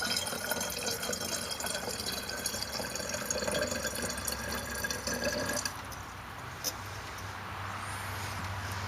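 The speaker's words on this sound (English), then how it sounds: "So we're going to go ahead and double our volume of water." Distilled water pours steadily into a container during a silver refining setup, a continuous splashing wash that runs for several seconds, then thins to a quieter trickle near the end.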